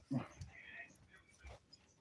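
A dog whimpers near a livestream setup, a few soft high whines and a short yip in between, faint and close, with someone talking quietly.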